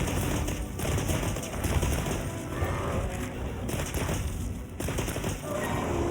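A light bowgun fires in Monster Hunter Wilds, rapid dense volleys of gunshots blending into a continuous loud barrage with crashing impacts, sustained across several seconds.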